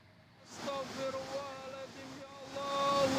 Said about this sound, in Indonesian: Derasnya aliran air membuat sejumlah warga panik.